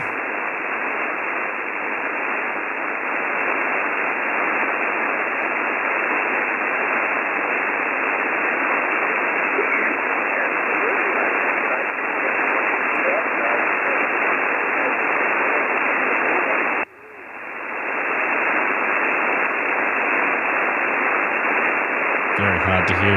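An HF radio signal, weakened during a G4 solar storm, is lost under a loud, unbroken wash of hiss and static with only a brief dip partway through.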